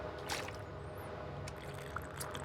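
Drinking water in The Long Dark, a quiet liquid sound with soft gulps and faint drips over a low steady background, with no voices.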